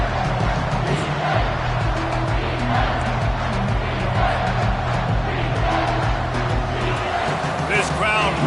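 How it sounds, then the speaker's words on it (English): A loud stadium crowd in a Madden football game roars steadily in a continuous wall of cheering, and a commentator talks over it throughout. "This crowd rising up, sensing that its defense needs some help."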